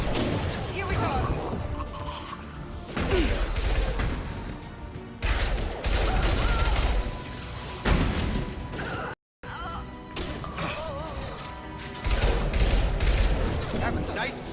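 Rifle gunfire in the sci-fi shooter Mass Effect 2, repeated loud bursts of shots and crashing impacts through a busy battle mix, with voices calling out between volleys and a short silent break midway.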